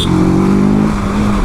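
A TVS Apache RTR 310 motorcycle accelerates hard on the road, its engine note climbing in pitch, loud and close, then easing off toward the end.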